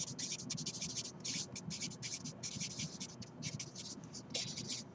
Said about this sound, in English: let me erase the whole thing